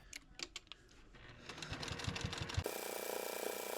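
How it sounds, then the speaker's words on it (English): A sewing machine stitches binding onto a double-sided holiday placemat about 1/8 inch from the folded edge. A few soft clicks give way to quick rhythmic stitching, then a steady, close whirring run to the end. "you'll just need to sew about 1/8 of an inch from the folded edge to secure your binding all the way around"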